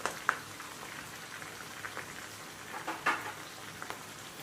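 Prawn pakoda frying in hot oil with slit green chillies and cashews gives a steady, faint sizzle with a few louder crackles and pops scattered through it.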